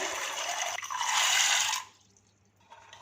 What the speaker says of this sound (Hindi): चने की दाल इस तरह से 17 खाने वाले चम्मच भर के लिए तकरीबन 1 पाव के आसपास है। इसे पानी में भिगो देंगे